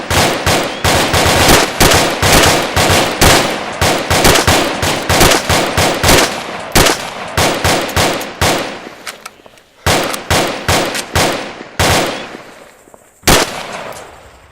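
A fire team lets loose with rifles and machine guns in a video game battle: loud, rapid bursts of automatic gunfire that run almost continuously, then break into shorter volleys with brief pauses near the end.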